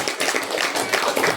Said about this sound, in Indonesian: Nah, lagi sekali tepukan.